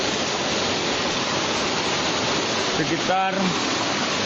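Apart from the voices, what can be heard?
waterfall near Desa Ule Alu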